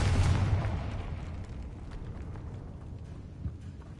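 An explosion from the Confringo blasting spell in the video game Hogwarts Legacy: a loud blast right at the start that rumbles and fades into a lingering low roar, with a small thud near the end.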